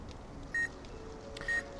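Two short electronic beeps from a Spectral Analyzer ghost-hunting device in the Nancy Drew: Midnight in Salem game, about a second apart, faint over a quiet background.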